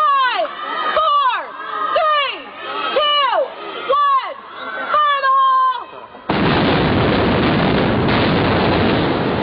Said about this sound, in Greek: Το εγχείρημα της ελεγχόμενης έκρηξης ήταν βεβαίως δύσκολο